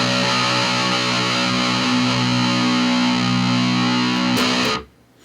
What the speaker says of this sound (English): I'm going to go ahead and turn on my distortion.